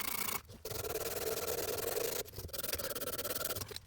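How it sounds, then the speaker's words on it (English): Sandpaper or emery cloth rubbed back and forth on copper pipe before fitting a push-in valve, a close, quiet, continuous scratchy rasping in long strokes with two brief pauses. "you will clean the pipe with some sandpaper or emery cloth"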